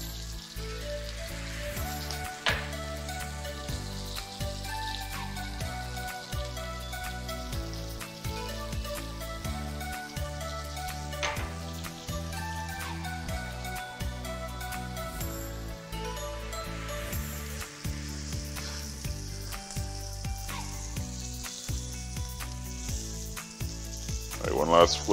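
Spicy sausage kebabs sizzling on a grill or pan, a continuous crackling, popping fry noise with scattered sharp spits, close and fairly even, with brief low voice in the background.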